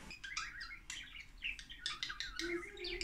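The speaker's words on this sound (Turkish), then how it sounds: "Bizim kuşum benim." A pet bird squawks and chirps repeatedly at close range, a quick irregular series of shrill calls over a faint low background.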